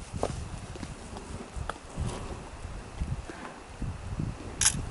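Horse hooves clip-clopping at a sheep camp, a few irregular, fairly close hoof falls on soft ground with faint rustling between them.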